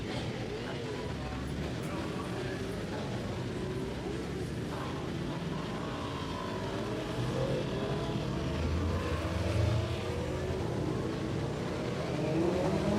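Superbikes at Kirkistown roll out onto the circuit for their warm-up lap, with a continuous mix of engines revving and droning at a distance under steady commentary talk.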